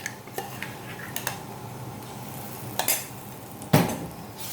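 Ground masala paste tipped into a pan of roasted coriander powder for Kerala-style beef liver roast, stirred with light scrapes and a few sharp utensil clinks against the pan over a faint sizzle.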